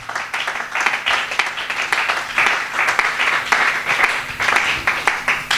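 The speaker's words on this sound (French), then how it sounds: "Est-ce qu'on peut acclamer très fort pour la gloire du Seigneur?" A church congregation applauds loudly and steadily at a singles meeting with a pastor, with dense clapping throughout and bursts of cheering over it.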